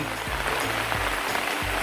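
A small natural waterfall at Dan Baen, a natural rock slide at Ban Na Do, gives a steady, close, hissing rush of falling water, with faint voices and low sounds beneath it.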